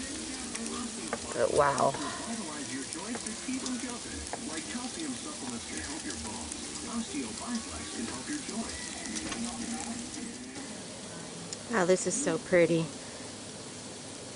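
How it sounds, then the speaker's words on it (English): Sleet falling during an ice storm onto a back porch, a steady fine crackling patter like sizzling that continues throughout, while someone speaks softly over it in a couple of short bursts. "I mean, it is sleeting. All of this is sleet."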